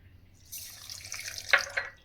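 Water splashes into a mixer jar holding rose apple, sugar and cardamom for juice, a short, light pouring trickle that builds over about a second and a half, with a couple of brighter splashes.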